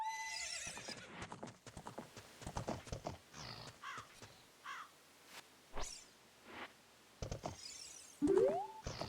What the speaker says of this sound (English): Look, horse.